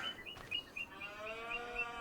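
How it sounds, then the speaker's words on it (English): Highland cattle lowing in the Farming Simulator 25 farm game, a drawn-out, fairly faint moo that runs through most of the span, with a few light birdlike chirps above it. "the new cows, the Highland cows that we've got with the DLC"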